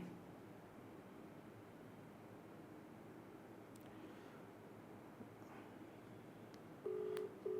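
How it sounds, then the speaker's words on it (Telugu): Telephone dialing: after a long stretch of faint room hiss, a few short, clear keypad tones beep in quick succession at the very end. "మల్లన్న ఫోన్ చేసినాం."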